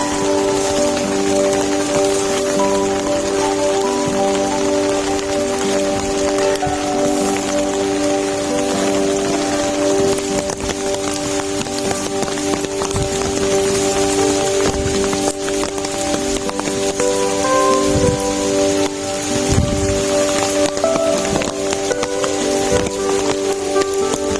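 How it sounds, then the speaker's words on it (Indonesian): Rain falls on a mountain hiking trail, a steady hiss lasting throughout, with a sustained tonal hum running underneath. "hujan."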